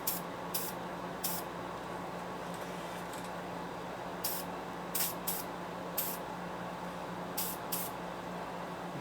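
Aerosol spray paint hissing in short, repeated bursts while coating the cylinder studs on a 1972 Harley-Davidson Sportster XLCH 1000cc ironhead engine, faint over a low steady background hum.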